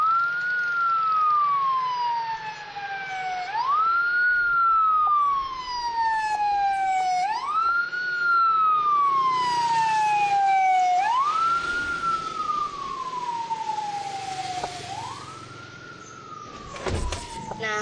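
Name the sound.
ambulance siren passing, Doppler effect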